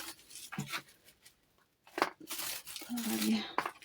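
Crinkly rustling of small plastic bags in a few short bursts with pauses, close up, with a brief bit of talking partway through.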